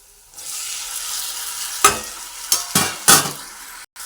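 Tomatoes being stirred into a frying pan for an egg and tomato curry: steady sizzle with a few loud scraping bursts of stirring, close and alone.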